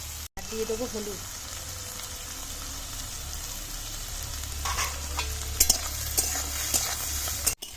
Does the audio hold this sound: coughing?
no